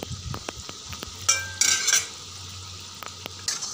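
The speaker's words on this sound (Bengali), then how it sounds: "ভালোভাবে লাল লাল করে আমি ভেজে নিচ্ছি" Palm fritters (tal bora) frying in a pan, a faint sizzle under scattered clinks and scrapes of a utensil stirring and turning them against the metal, with a few louder bursts of activity.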